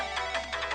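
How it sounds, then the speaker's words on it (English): A ringtone goes off on Daru's phone in the visual novel Steins;Gate 0: short repeated bright tone bursts in a quick, even pulse, close and clear with no talking. "Daru's phone ringtone is crazy."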